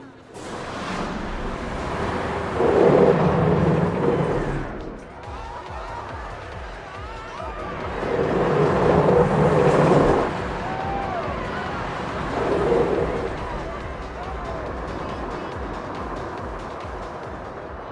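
B&M hyper roller coaster ride in the game Planet Coaster: a continuous rumble of cars running along the track that swells and fades in waves, with louder roaring passages, a steady ride sound with no speech.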